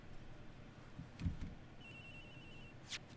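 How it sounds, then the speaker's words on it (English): A mobile phone rings in the Ace Attorney Investigations video game, a short electronic ringtone pattern sounding once or twice over quiet background noise, with no talking. "Edge Hicks's phone! It's ringing from somewhere, sir!"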